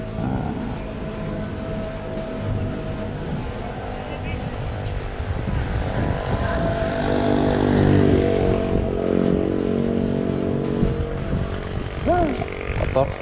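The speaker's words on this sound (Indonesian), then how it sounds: "inilah motor R6 2003" A 2003 Yamaha R6 sport motorcycle engine runs steadily and loudly throughout, its revving drone layered with broad road-like noise.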